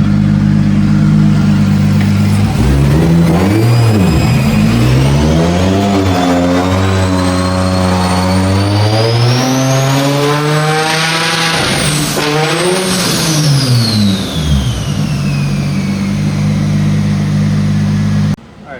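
A BMW E36 with a swapped 1JZ engine revs hard through a dyno pull, its loud, close engine note climbing and dropping through repeated sweeps with a high whine on top before cutting off at the end.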